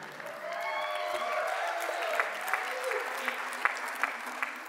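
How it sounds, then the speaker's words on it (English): A church congregation clapping for God during a sermon, a warm round of applause with voices cheering and individual claps popping out as it winds down. "you could give God a hand clap for that one"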